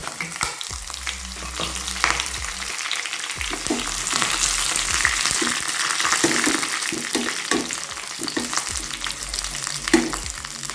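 Dried red chillies and curry leaves crackle and sizzle in hot oil while cooking dal curry, a steady close frying hiss with scattered sharp pops and occasional stirring scrapes, no voices.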